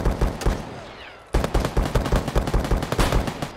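Automatic gunfire in the video game Escape from Tarkov comes in rapid, loud bursts of closely spaced shots. A short pause follows, then another sustained string of fire.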